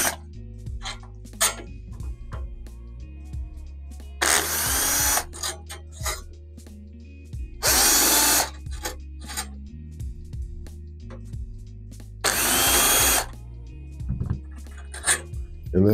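A power screwdriver removes four screws from the grill of an ElphaPex DG-1 crypto miner, with short loud whirring bursts repeated at intervals amid small clicks and handling noises.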